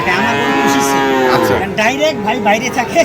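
A cow gives a long, loud moo close by at a cattle market, followed by shorter lowing calls and some nearby voices.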